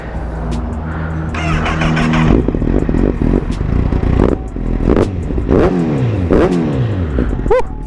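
A Honda CBR 1000cc sport motorcycle engine revs up repeatedly, loud and close, rising and falling in pitch with clattering mechanical noise throughout.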